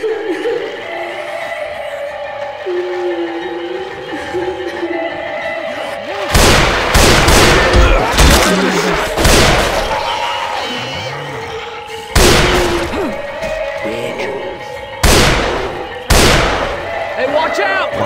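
Gunfire in the Left 4 Dead 2 Swamp Fever campaign: loud, close bursts of shots and booms arrive in clusters after a quieter opening, with gaps between volleys and in-game voices mixed in.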